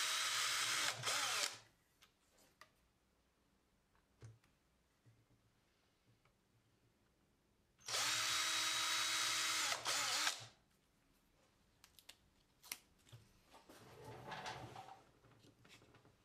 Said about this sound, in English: Now I've switched to a skinny drill bit, a 1/16th or something like that, so I can drill the pilot holes.